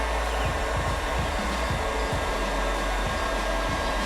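A heat tool blows hot air onto encaustic beeswax with a loud, steady, close whoosh and a constant hum that holds unbroken throughout, with no talking.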